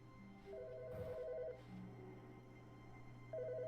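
Telephone ringing inside the video game The Stanley Parable: a repeating electronic double-tone ring in short bursts, clear and fairly close, over a steady low hum with a brief thump in the middle.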